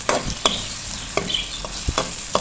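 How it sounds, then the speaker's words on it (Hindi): Onions sizzle softly in a pan while a spatula knocks and scrapes them around at irregular moments. A handful of distinct, close stirring clacks stand out over the faint frying, with no talking. "और इसको हमने इतना भूनना है कि इसका कलर जो है वो चेंज हो जाए।"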